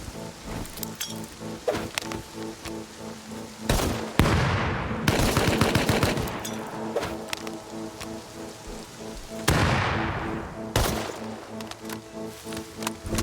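Rapid bursts of AK rifle fire crackle through a video game firefight, dense rattling volleys broken by short pauses, loud and close with no speech.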